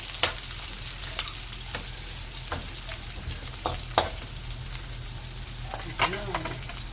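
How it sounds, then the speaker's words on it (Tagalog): Onion and garlic fry in a pan for beef menudo, a steady crackling sizzle punctuated by several distinct clacks and scrapes of stirring, close and moderately loud, with no talk. "Sibuyas, bawang. Brown na ng konti."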